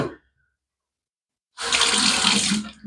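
Water runs steadily from a tap for about a second, loud and close, after a brief quiet gap, with no talk over it. It comes at a shaving session while lathering up a shave soap.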